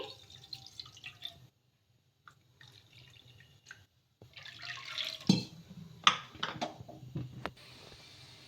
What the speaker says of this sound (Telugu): దీంట్లోకి ఒకటిన్నర కప్పుల నీళ్ళు అయితే వేసుకోవాలి